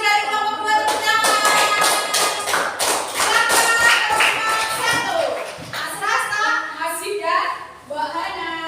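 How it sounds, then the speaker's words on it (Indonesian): Classroom of sixth-grade pupils clapping together after a group presentation, loud rhythmic claps with thumps and taps, children's voices mixed in, settling into scattered claps near the end. "terima kasih dari kelompok 2 tepuk tangan"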